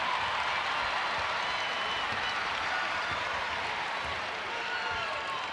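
A sold-out crowd at a women's college basketball tournament game, UConn against Jackson State, roars and applauds in a steady, dense wash of cheering that fills the whole arena without letup.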